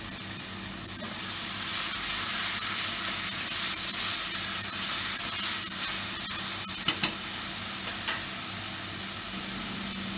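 Chopped onion and crushed garlic fry in two tablespoons of oil in a saucepan over medium heat, a steady close sizzle with a couple of brief clinks partway through.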